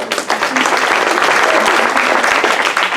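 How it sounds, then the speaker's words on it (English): Loud, sustained applause from a sizable crowd fills the space, dense clapping with some cheering mixed in and a voice faintly underneath. "we got a good cheering section here"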